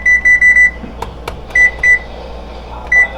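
A pizza oven's timer beeps loudly in short high-pitched bursts, first four quick beeps, then two and one more, as it is set, with clicks and soft handling sounds between.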